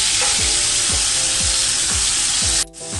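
Beef fillet sears loudly in a hot pan, giving a steady, dense sizzle that fills the whole stretch. The frying dips briefly near the end, and faint rhythmic knocks recur beneath it.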